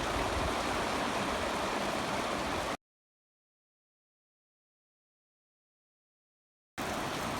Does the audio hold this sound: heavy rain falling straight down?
yes